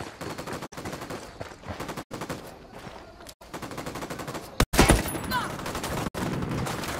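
Sustained bursts of automatic gunfire in the tactical shooter video game Ghost Recon Wildlands, rapid and loud with brief gaps and one sharp louder blast, with game ambience underneath.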